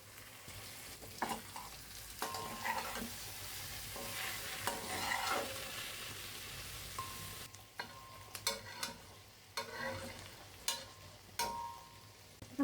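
Shol (snakehead) fish frying in oil with a turmeric, chili and salt spice paste, no water added, for a Bikrampur-style curry. A soft, continuous sizzle runs throughout, broken by repeated scraping stirs and clacks of a spoon against the pan.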